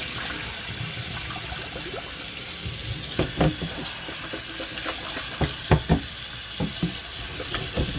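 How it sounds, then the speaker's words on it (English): Cold tap water runs steadily into a sink over cut potatoes being rinsed, a continuous close rush broken by knocks and splashes as the pieces are stirred, with no voices. "So what we're going to do is we're going to rinse these with cold water."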